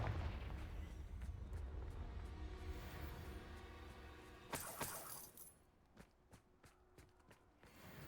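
A sharp magical blast of the Confringo spell in Hogwarts Legacy cracks out amid game rumble and clatter, followed by scattered lighter impacts and debris-like clicks.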